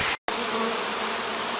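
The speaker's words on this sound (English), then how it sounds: "You can see the bees are very interested in staying home." Honey bees hum densely around their hive as it is emptied frame by frame, a close, continuous buzzing drone broken only by a momentary gap near the start.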